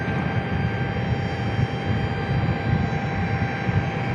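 An Air National Guard F-16 jet takes off at Tucson International Airport, a steady broadband engine roar heard from a distance, continuous and fairly loud with no distinct peaks.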